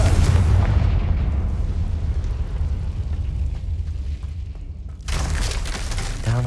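A Confringo spell explosion in the video game Hogwarts Legacy booms deep and loud, then a long rumbling decay follows. A second blast of crackling debris breaks out near the end, with no speech.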